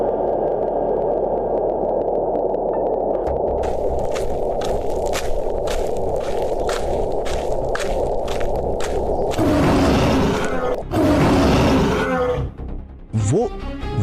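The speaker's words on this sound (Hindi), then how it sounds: "ये तो बाघराज की दहाड़ है" A tiger roars in a forest setting, a loud sustained growling roar that builds over several seconds and ends in a rougher burst, with dramatic background music and a voice speaking near the end.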